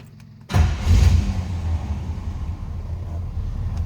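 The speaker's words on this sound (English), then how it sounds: "let's go ahead and fire this up so you can hear it run" A 1956 Chevrolet Bel Air engine cranks and catches with a loud burst, then settles into a steady, low rumbling idle close by.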